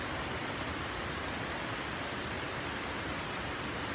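A mountain river in full spate roars down past waterfalls and rock features, a dense, even, continuous rush of water with no voices.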